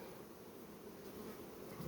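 A steady, low droning hum of honey bees buzzing together in a sparsely populated two-queen hive after the honey harvest, continuous and fairly quiet, with no talking.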